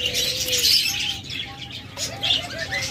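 Pet birds for sale, budgerigars, cockatiels and lovebirds kept in breeding pairs, chirp and call in short bursts over a dense, bright chatter of many birds, close and lively with no talking.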